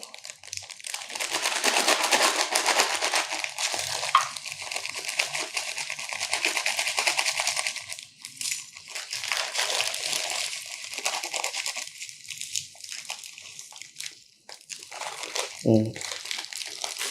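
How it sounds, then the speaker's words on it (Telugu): Rock salt pours into a clay oil lamp as a continuous, close grainy crackle and rustle that stops and restarts in uneven spells, ending with a soft knock. "ఇట్లా పెట్టిన తర్వాత ఇందులో రాళ్ళ ఉప్పు పోసుకోండి"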